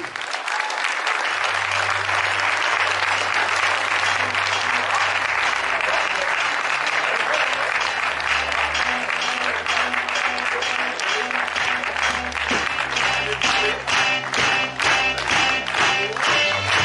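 Sustained audience applause fills a hall after an amateur stage hypnosis show, dense clapping from a large crowd holding steady throughout with a few low voices underneath.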